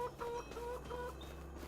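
Chickens in Farming Simulator 25 cluck faintly in a quick repeated rhythm, a few soft bird calls over a low farm hum.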